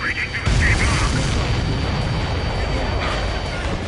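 Missile striking its target in the jet combat game Ace Combat 7, a loud booming blast that swells and rolls on as a sustained rumble, with radio chatter and a voice alongside.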